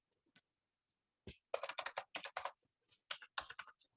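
Computer keyboard typed on while writing Python code, a few isolated clicks and then quick close bursts of keystrokes in two clusters, crisp and alone with no talking.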